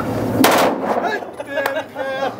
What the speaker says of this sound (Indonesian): Sekarang ronde kedua, tembakan otomatis.